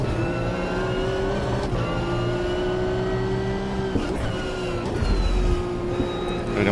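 Bentley race car engine in the sim racing game Automobilista 2, a sustained close drone with steady tonal whine shifting pitch through gear changes, a brief bump and louder rumble near the end, other cars faintly around.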